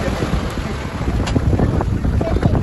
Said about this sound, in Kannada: ಆಂಕರ್ ಸಹಾಯದಿಂದ ಬೋಟ್ ನಿಲ್ಲಿಸ್ತಾ ಇದ್ದಾರೆ.